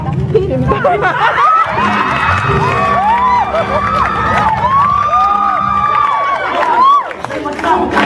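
A studio audience at a talk show cheers and whoops, a lively crowd roar with excited shouts running throughout while a voice talks over it.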